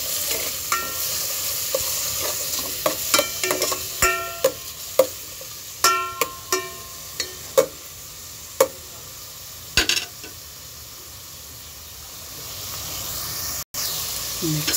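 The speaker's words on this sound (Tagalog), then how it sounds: "Ikaramelize lang natin yung sibuyas ng konti. Tapos ilagay ang kamatis." Onions caramelizing in a hot pan for ginisang mongo, a steady sizzle broken by a rhythm of close, sharp scraping stirs; later the hiss surges and builds as tomatoes are added.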